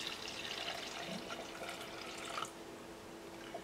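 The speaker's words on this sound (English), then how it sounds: "So all I have to do is fill this up with water and give it a go." Water pours steadily into a homemade four-tier Heron's fountain, a soft continuous splashing trickle with faint drips, close and unbroken for a few seconds.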